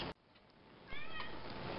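A cat in a home sewing room gives one short, faint meow against a quiet room hiss.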